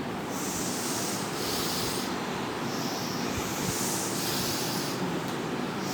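Forceful yoga breathing, with strong rhythmic inhales and exhales through the nose during a group session, loud, rushing and continuous, with a faint regular pulse and no talk.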